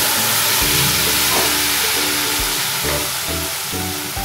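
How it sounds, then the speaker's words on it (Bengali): Spice paste sizzling loudly in hot oil for Bengali boal fish curry, a dense continuous hiss and crackle from close by with a few soft clatters, no voices. "আমি পেস্টটা দিয়ে দিচ্ছি আলতো করে। তেল গরম হয়ে গেছে"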